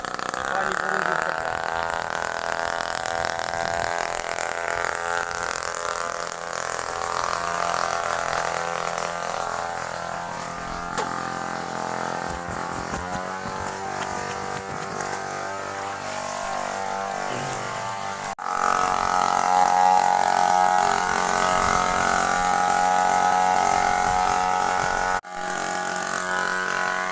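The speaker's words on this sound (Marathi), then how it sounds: "चालू झाला बघा अशा प्रकारे आपला फवारा." A New Holland Rajpal 2.0 tractor drives a crop sprayer pump, its engine droning loud and steady with a constant mechanical hum and no talking throughout.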